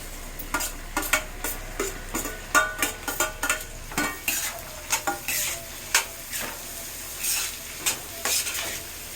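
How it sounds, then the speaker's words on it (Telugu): Capsicum is stir-fried in a sizzling pan for street-style egg fried rice, with a rapid series of sharp spatula scrapes and clanks over a steady frying hiss, close and loud. "క్యాప్సికమ్ యాడ్ చేసుకుంటున్నానండి."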